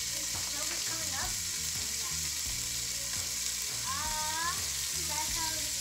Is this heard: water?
no